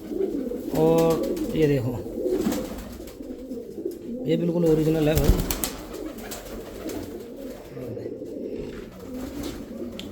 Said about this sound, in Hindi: ये ललगजरा कबूतर है, लालचीना।